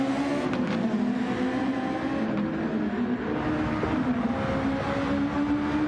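Steady, loud engine drone of race cars from a DRL Formula Super League round at Dragon Trail Seaside, filling the background continuously with a sustained hum and no pauses.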